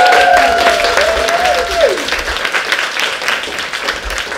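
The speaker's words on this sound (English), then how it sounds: "have a look at each other's faces as you give me my applause." Audience applause fills a room at a live talk, a dense, steady wash of many hands clapping with a few shouts and whistles near the start, loud and close throughout.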